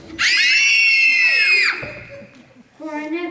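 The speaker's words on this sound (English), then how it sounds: "His hits make teenager girls scream!" Teenage girls scream for Elvis Presley's rock and roll hits: a loud, high-pitched burst of several voices shrieking together for over a second, then fading, followed by another short shrill cry.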